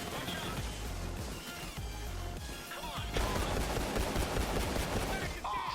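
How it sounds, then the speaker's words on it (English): Sustained automatic gunfire from a drum-magazine gun in the video game Payday 2, a dense, loud, continuous burst that runs the whole stretch over other game noise. "firing this gun into a doorway with a drum mag on it, like 35 bullets, just pound on a doorway, head height"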